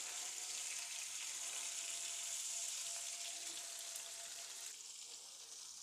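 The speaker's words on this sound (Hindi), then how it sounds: "हमारे जो चपली कबाब हैं वो फ्राई हो रहे हैं" Beef chapli kebabs fry slowly in oil, giving a soft, steady, even sizzling hiss throughout with no talking.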